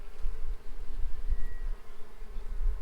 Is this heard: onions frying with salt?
no